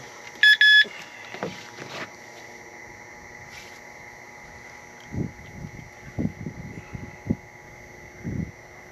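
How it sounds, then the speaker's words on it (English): A carp fishing bite alarm gives a short burst of high electronic beeps at the start, followed by faint outdoor noise and scattered thumps. "bite alarm's going off"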